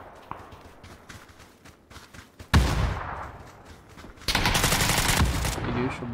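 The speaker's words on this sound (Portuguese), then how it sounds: "Eu dei 3 tiros nele" Two loud bursts of gunfire ring out in a shooting video game, each sudden and sharp with a lingering rattle behind it, while players talk quietly in the background.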